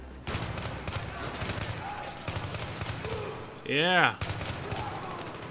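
Rapid bursts of video-game gunfire from a shooter, loud and clattering over continuous game sounds, with a rising whine near the end and a brief spoken remark.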